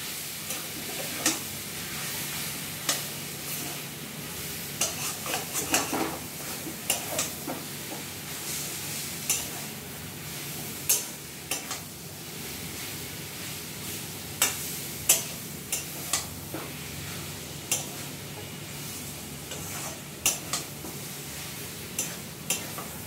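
Raw jackfruit and prawns stirred in a sizzling pan for an enchor chingri bharta, a steady soft fry hiss under repeated scraping clinks of a spatula, close and moderate in level.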